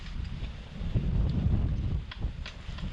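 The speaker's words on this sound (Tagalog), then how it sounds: "lakas ng hangin" Gusty wind buffets the microphone with low rumbling bursts that swell and fade over a few seconds, with faint rustling in the background.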